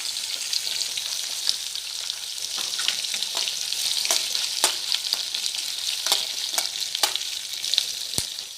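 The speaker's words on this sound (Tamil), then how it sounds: "பூண்டு பல் இதெல்லாம் வந்து சேர்த்து இதோடு சேர்த்து வதக்கலாம்" Garlic and curry leaves sauté in hot oil for vallarai chutney, giving a dense, steady sizzle close by, punctuated by intermittent clicks and scrapes of a stirring spoon.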